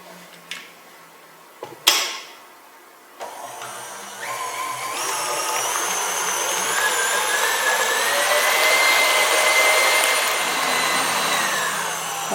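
An electric stand mixer starts beating sponge cake batter, with a few knocks and a motor click before a steady high whirring rises and holds, loud and close.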